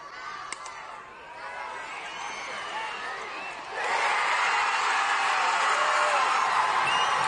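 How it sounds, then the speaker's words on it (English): Texas softball fans behind the dugout cheering after a national title win, a steady crowd roar that swells suddenly into louder, sustained cheering and shouting halfway through. "The crowd of Texas fans behind the dugout cheering effusively."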